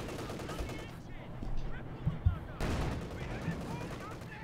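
Machine gun bursts and explosions from the strategy game Company of Heroes 2, with light machine gun and Vickers fire rattling in loud rapid volleys amid battle noise.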